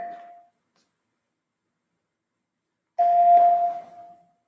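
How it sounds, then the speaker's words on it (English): A doorbell-style chime rings twice, a brief tail at the start and then a fuller sustained tone about three seconds later, clear and alone with silence between, heard from a school setting. "Bells are ringing all over the place."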